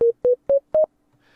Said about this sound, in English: you'll notice this is a nice, clean, and soft sine wave